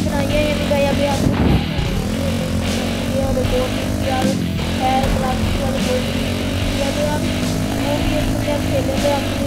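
A motorcycle engine in Ultimate Motorcycle Simulator, on a slow scooter, hums at a steady drone throughout. It rises twice into short revving swells, and the engine plays alone at an even loudness.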